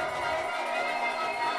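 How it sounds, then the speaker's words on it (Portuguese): A crowd cheers and makes steady noise in the stands at an American football game, a Brasil Bowl final played in Timbó, Brazil, as the home side pushes forward. The roar holds at a distant, even level throughout. "Torcida empurrando realmente o time da casa"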